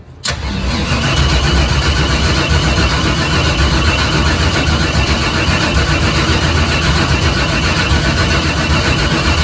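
A dirt stock car engine cranks with a sharp start, catches and settles into a steady, loud, close idle that keeps running throughout, with no voices.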